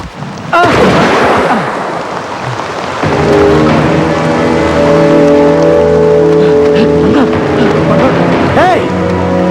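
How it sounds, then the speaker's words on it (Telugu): Heavy rain pours steadily in a film comedy scene, a loud continuous hiss with a deep rumble, layered under music and voices. "వర్షం బాగా కురుస్తుంది"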